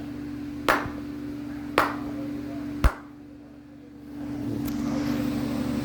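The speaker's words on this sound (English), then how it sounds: "that was my lazy man's way of getting my clap in" A few sharp, isolated hand claps ring out close by, spaced about a second apart over a steady low hum, followed by quieter background noise.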